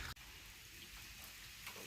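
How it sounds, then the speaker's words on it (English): Rain begins falling outdoors in a flooded area as a steady, soft hiss of drops. It holds at an even, faint level with one brief dropout near the start. "now it's starting to rain"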